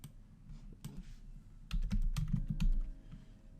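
Keys clacking on a computer keyboard as a site name is entered in a local server setup, a sparse few taps at first, then a denser burst of loud, close keystrokes before easing off.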